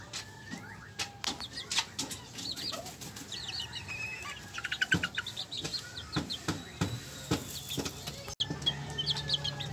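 Sebright bantam chickens, young birds about six weeks old, cluck and chirp in a small backyard coop, with repeated sharp calls, brief wing flaps and soft rustling close by throughout.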